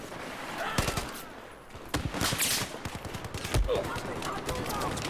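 Automatic gunfire in the Battlefield 4 multiplayer game, sharp bursts of rapid shots spread through the clip at close range, with sounds of play running underneath.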